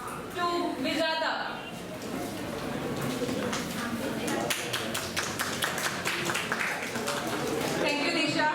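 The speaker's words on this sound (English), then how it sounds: "All of you please clap for her." Audience at a Christmas celebration applauding a spot prize winner, with a steady wash of hand claps running through most of the clip and a voice speaking over it at the start and end.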